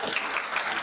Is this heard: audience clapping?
yes